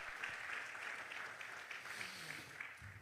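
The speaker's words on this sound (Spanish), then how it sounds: "Dele aplauso a Cristo" A church congregation claps in a continuous round of applause, fairly faint and distant, with a few low voices murmuring underneath.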